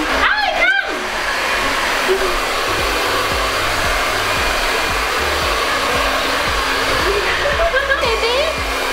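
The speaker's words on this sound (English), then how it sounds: "I think we're supposed to blow dry her to get her hair fluffy." A hair dryer blows loudly and steadily at close range while drying a nine-week-old Border Collie puppy's wet fur after a bath, with a brief voice and some rustling near the start.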